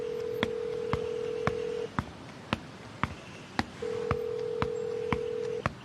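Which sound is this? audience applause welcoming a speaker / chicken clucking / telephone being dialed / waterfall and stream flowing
telephone being dialed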